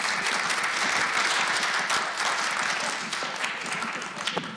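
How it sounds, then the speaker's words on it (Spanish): An audience at a panel on national identity and migrant communities applauds the panel, a dense, sustained round of clapping that thins slightly toward the end, with a voice faintly underneath. "yo pido un aplauso para todos en esta mesa"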